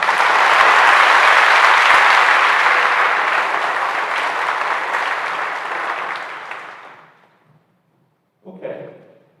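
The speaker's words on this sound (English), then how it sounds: "So we give a round of applause for this time." A school assembly audience at a senior academic event gives sustained applause that starts loud and full, then gradually fades to silence, followed by a brief burst of voices near the end.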